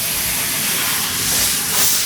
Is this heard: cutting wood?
no